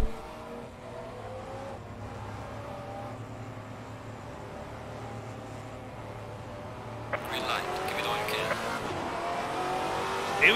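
A Maserati MC GT4 race car in the Assetto Corsa Competizione racing game, its engine droning steadily and then rising into a loud, harsher rev toward the end as the race start nears, with a commentator talking over it.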